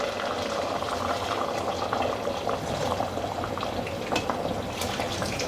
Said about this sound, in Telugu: ఇంకా మనకి వేడి నీళ్ళే కాసిన పోద్దాం.